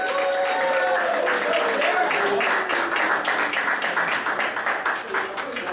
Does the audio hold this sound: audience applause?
yes